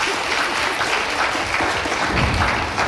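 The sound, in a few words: audience applause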